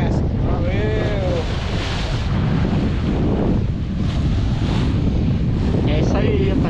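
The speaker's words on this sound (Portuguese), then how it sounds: "o ventão de hoje aí, ó" Strong wind batters the microphone aboard a fishing boat out at sea while it hauls lobster traps. The roar is loud, steady and broadband throughout, with water washing against the hull underneath.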